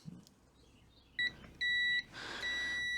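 An electrical continuity tester checks a good wire connection on a car's brake wiring, giving two short sharp high beeps, then a longer one, against quiet background noise before rustling handling sounds.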